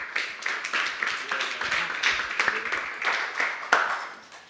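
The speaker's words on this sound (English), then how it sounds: "Quick round of applause for friends from France." A conference audience at a sports media strategy session breaks into applause, many hands clapping in a busy, fairly loud patter that holds steady, then tapers off at the very end.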